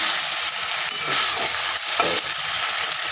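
Dal chakri is stir-fried dry in a pan, with a close, steady scraping and rustling of stirring over a low frying hiss.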